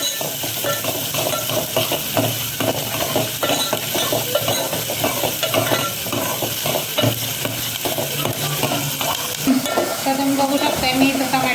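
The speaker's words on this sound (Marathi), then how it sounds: "आता इथं एक कांदा घेतला मी मिडियम साईजचा तो छान तळून घ्यायचा आपल्याला तेलात" A medium-size onion frying in oil in a pan with garlic that is already fried, giving a steady, close sizzle with repeated scraping stir strokes throughout and no talking.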